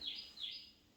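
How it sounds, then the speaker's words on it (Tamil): A single bird gives two short, shrill rising calls in quick succession, fairly faint against a quiet background with no talking. "ஏதோ ஒரு பறவை கத்துது"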